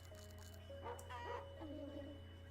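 A small cartoon dog in the video game Phoenotopia: Awakening gives short yipping barks and whimpers over a steady low background hum, with a thin tonal beep running underneath.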